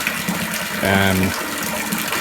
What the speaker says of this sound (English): This is the borehole filling up the water.